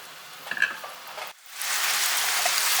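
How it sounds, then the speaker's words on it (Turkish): Two small-diced potatoes fry in a pan over medium heat with a steady, loud crackling sizzle. A few faint clinks and stirring sounds come first, then a brief gap. "Patatesleri orta ateşte hafif böyle kızarıncaya kadar pişireceğim."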